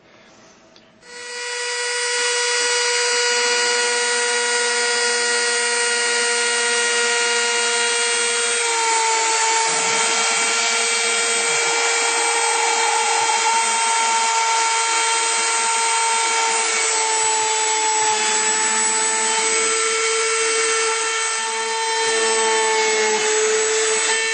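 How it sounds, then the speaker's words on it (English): A small rotary tool whines steadily at a high pitch for a long stretch, its tone shifting slightly as it bites into material. "we're going to be drilling holes into the material with this Dremel bit"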